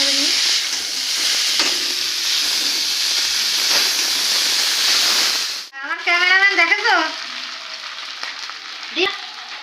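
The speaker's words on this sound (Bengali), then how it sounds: "এর মধ্যে চাউমিনটা দিয়ে আমি নাড়ি" Chow mein tossed and stirred in a hot frying pan gives a loud, continuous sizzle for about six seconds, then cuts off abruptly, followed by a voice speaking.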